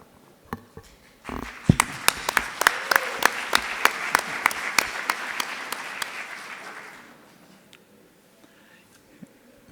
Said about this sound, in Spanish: Se nos acaba de advertir que los aplausos deben de ser muy moderados como el incienso